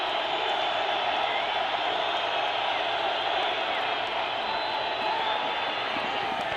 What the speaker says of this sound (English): Crowd noise picks up now on 2nd and 16.